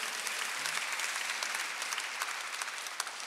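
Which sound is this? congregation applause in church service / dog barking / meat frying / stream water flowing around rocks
congregation applause in church service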